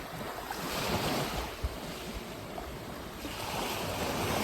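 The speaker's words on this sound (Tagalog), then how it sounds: "Lami kayong tingog sa dagat no" Ocean waves wash continuously onto the seashore, a loud, broad roar that surges and eases, mixed with gusty wind buffeting the microphone and no voices.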